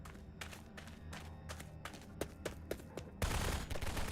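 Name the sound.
gunfire in a video game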